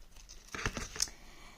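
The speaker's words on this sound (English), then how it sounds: "I'm closing it with some seam binding, so I'll unwrap that." Seam binding being unwrapped from a handmade paper folio flipbook. A quiet, brief rustle and crinkle lasts about half a second.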